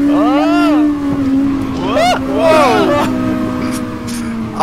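A Honda-engined racing lawn mower holds a steady, droning engine note throughout, while excited voices talk loudly over it.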